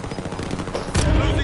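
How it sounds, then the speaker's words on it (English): Rapid gunfire traded between squads in a battle royale match, a steady crackle of shots that swells into a louder, heavier burst near the end. "They're shooting at each other."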